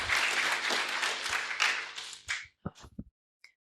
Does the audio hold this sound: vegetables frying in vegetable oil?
no